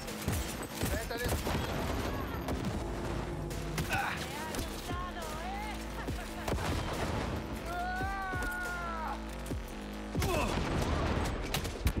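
Rapid gunfire from an enemy firing down from above in the video game Cyberpunk 2077, dense bursts of shots running steadily through the clip beneath an excited voice and music.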